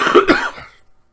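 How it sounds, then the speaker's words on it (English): A man recovering from flu coughs twice in quick succession, close and loud, followed by a short fading throat sound and silence. "do apologise for the coughing"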